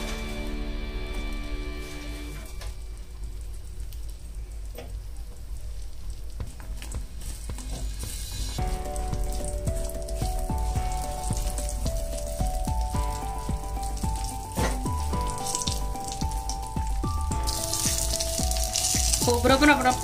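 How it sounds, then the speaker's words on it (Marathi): Dried coconut frying in oil in a pan, a steady crackling sizzle that continues throughout with soft bubbling and occasional stirring. "ह्याच्यामध्ये आपल्याला सुकं खोबरं जे आहे ते फ्राय करायचं आहे।"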